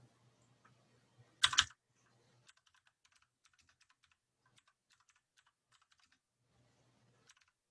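Keystrokes on a computer keyboard during a basic Hangul word-processing lesson: a loud burst of clustered key presses near the start, then a long run of light, scattered typing clicks, close by with no talk.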